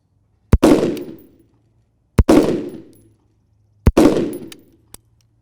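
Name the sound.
rifle shot group fired while zeroing EOTech sight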